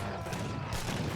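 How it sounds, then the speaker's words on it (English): War Wagons firing guns in Age of Empires III, a dense crackling volley of gunfire heard up close in a brief, loud burst with no talking. "Falconet gets sniped by the War Wagons."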